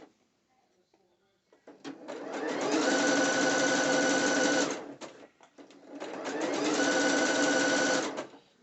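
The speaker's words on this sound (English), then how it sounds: "So what I'm doing is stitching this down, as you can see, to here. I'm using a small zigzag stitch." Sewing machine running a small zigzag stitch on fabric for a two-piece dance outfit, two sustained bursts of steady rapid stitching separated by a brief pause, close and fairly loud with no talking.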